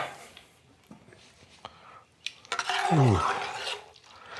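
Heavy cream is stirred into a bolognese sauce in a pan: soft wet clinks and scrapes, then a loud sloshing swirl of thick liquid, with a brief exclaimed voice.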